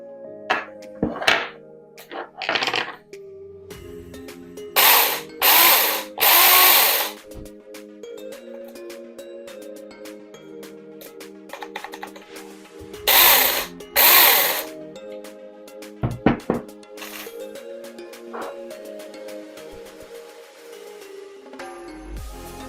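A small electric chainsaw, about 1.1 kg, with a slightly slack chain, runs steadily with a humming motor, interrupted by several loud bursts of cutting or revving and a few sharp knocks.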